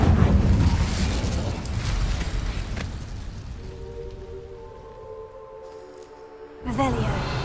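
An Incendio fire spell erupts in Hogwarts Legacy with a loud roaring, crackling burst that fades, followed by tonal game chimes and a second sharp burst near the end.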